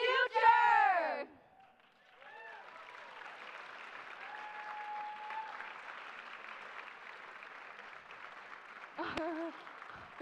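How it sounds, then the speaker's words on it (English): An audience breaks into sustained applause that lasts several seconds, framed by a person speaking before and after. "How about a big round of applause?"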